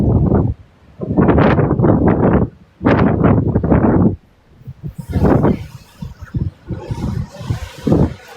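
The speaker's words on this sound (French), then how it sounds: "je suis au bord de mer, il y a du vent de fou" Strong, sandy seaside gusts of wind buffet the microphone in loud, roaring bursts, easing off to lighter rustling and flutter between them.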